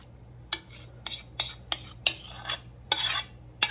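Food is dumped and scraped into a wheat-pattern Pyrex dish for tuna noodle casserole, a series of eight sharp utensil clacks against glass with short scraping between them, close and clear.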